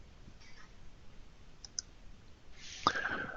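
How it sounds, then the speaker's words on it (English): Mouse clicks in a quiet room during a software webinar: a couple of faint, brief clicks, then a louder, brighter rustling burst near the end over a low background hiss. "I can just click on the dummy."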